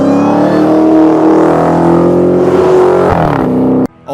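A Dodge Charger SRT with a 6.2-litre supercharged Hemi V8 revs loud and close, a sustained rising engine roar with supercharger whine that drops off abruptly near the end.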